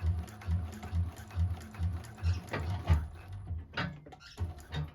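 1341 cylinder arm sewing machine back stitching through TPU vinyl, quiet rhythmic bursts of needle chatter starting and stopping in short even runs.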